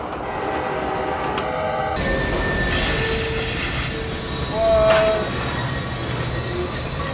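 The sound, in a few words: train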